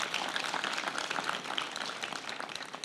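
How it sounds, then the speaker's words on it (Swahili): Applause from a crowd at a Kenyan political rally, a dense, steady wash of many hands clapping at moderate distance, sustained without break and with no voice standing out above it. "Tuwapigie makofi."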